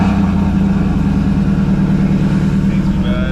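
A Pontiac G8 idles roughly after a cold start, a steady low engine drone with a pulsing rhythm, close and loud throughout the short stretch.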